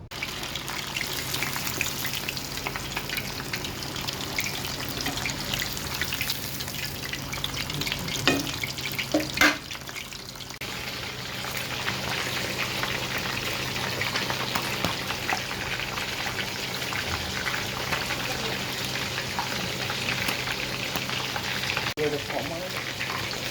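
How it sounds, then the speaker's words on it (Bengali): Fish, likely hilsa and pomfret, frying in oil in a home kitchen, a steady close sizzle that runs the whole time with a few clatters of utensils partway through. "মাছগুলো ভাজাভাজি করতেছি"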